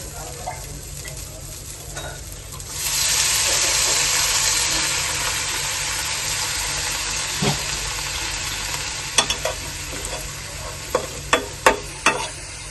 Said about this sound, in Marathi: त्याच तेलामध्ये थोडंसं नॉर्मल पाणी टाकायचं